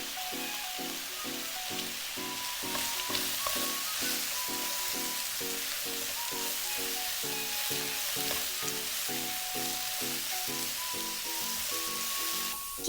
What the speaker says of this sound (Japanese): Using a wooden spatula, mix the rice and ingredients as if cutting.